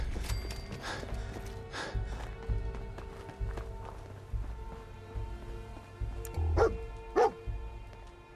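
Dogmeat, the dog companion in Fallout 4, gives a few barks and yips over game footsteps and running, with ambient game sounds around them; the barks come in short bursts near the end.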